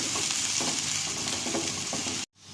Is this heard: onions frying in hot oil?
yes